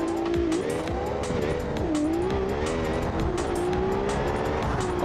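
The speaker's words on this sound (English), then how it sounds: "I'm wheel spinning too much." A car in BeamNG.Drive, able to pass 300 mph, spins its wheels with a sustained, wavering tire squeal over a loud, steady engine roar. The squeal rises and dips in pitch throughout, with faint clicks on top and no talking.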